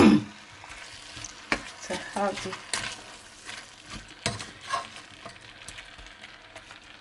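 Cabbage frying and being stirred in a pan, a steady sizzle broken by scraping stirs and clinks, with a brief spoken word near the end.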